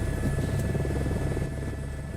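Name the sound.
helicopter flying in Microsoft Flight Simulator 2024 video game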